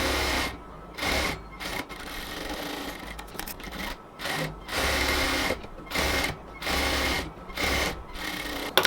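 A sewing machine stitches a cotton kameez sleeve in repeated bursts of loud, close whirring, each a second or so long, separated by short pauses.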